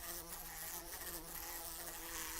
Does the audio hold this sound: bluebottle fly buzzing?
yes